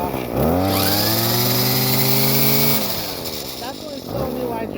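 A new Craftsman weed wacker's small two-stroke engine revs high and holds a buzzing, steady drone, then drops back toward a rough idle and picks up again, loud and close.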